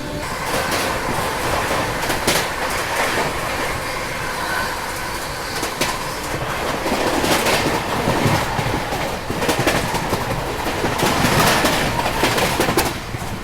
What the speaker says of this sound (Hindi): बहुत देर से हमारी ट्रेन ऐसी स्लो जो है वो चल रही है